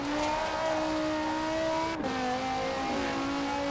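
Dodge Viper engine in Forza Horizon 4 revs as a strong, steady drone, drops briefly in pitch at a gear change and then pulls on again, with no voices over it.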